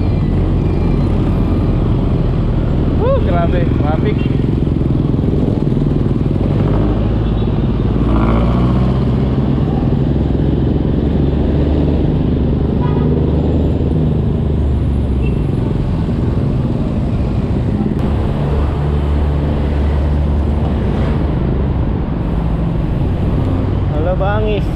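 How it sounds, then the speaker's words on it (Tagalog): Heavy road traffic crawls through Bicutan toward Sucat and Alabang, a steady loud roar of car and motorcycle engines close around, with people talking over it throughout. "Kita nyo sobrang traffic sa Bikutan."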